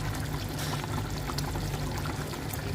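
Crushed fried onions tipped into a pan of chicken korma, a steady pouring, sizzling rush that stays loud and even throughout with no talk.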